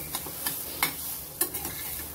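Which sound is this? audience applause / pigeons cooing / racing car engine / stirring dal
stirring dal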